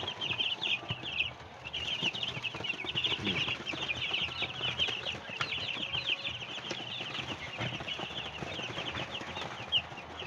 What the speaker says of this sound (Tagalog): medyo malungkot yung ating sisiw dahil sobrang init ng panahon